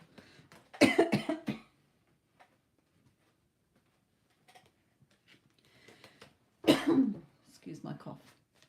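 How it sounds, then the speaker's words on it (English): A woman's cough bursts out loud and close in two rough clusters, the first near the start and a second a few seconds later, with faint throat noises and light clicks in between in an otherwise quiet indoor room. "Excuse my cough."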